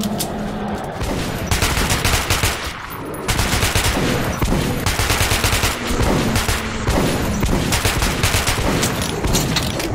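Machine gun in Metro 2033, fired in long, loud, close bursts of rapid rattling rounds, with a short pause between volleys and a continuous clatter that dominates everything else.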